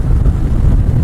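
Wind buffeting a rider on a 2018 Harley-Davidson Sport Glide 107, a constant loud low roar across the mic with no talking.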